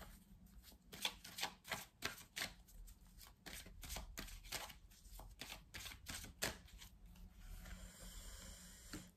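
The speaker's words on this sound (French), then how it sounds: "Je vais recouvrir quelques cartes." Tarot or oracle cards are flipped and laid down on a table during a card reading, a run of crisp, close slaps and shuffling snaps in an irregular rhythm, fairly quiet, with no talk.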